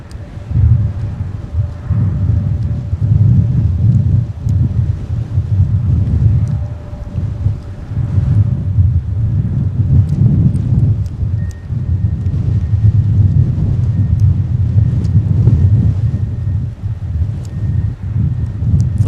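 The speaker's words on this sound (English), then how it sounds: "a very snowy and cold, with a lot of angry wind atmosphere out here at MSP Airport" Strong, gusty wind buffeting the microphone at a snowy, cold MSP Airport during deicing operations, a steady loud roar with surging gusts and faint aircraft hum beneath, no talk.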